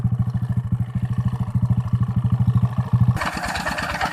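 An engine-driven water pump draining a rice field thumps in a fast, even chugging rhythm up close, then a rush of gushing water breaks in near the end.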